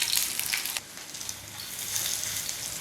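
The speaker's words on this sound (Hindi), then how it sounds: "अब मैं इनको करती हूँ फ्राई" Kebabs frying in hot ghee on a heated tawa, a steady close sizzle with a brief louder burst at the start, then a constant hiss.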